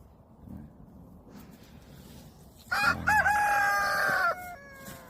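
A rooster crows once, loud and close, with a rising then sustained call over faint background noise, in a fatsia shoot field where chickens are raised.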